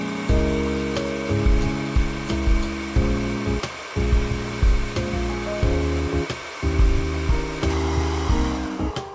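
A hot air gun heats four screws on an electric skateboard controller at 450 °C: a loud, continuous blower hum with steady tones that shift in pitch at intervals, close by, with no speech.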